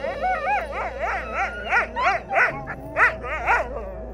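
A dog gives a run of repeated, tonal barks and yelping howls at close range, rising and falling in a rhythmic series with no talking.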